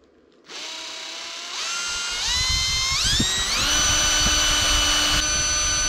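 A power drill with a cobalt bit boring into hard metal on a Soviet bulldozer water pump repair, a loud close whine that climbs in pitch in steps as it spins up, alone without talk.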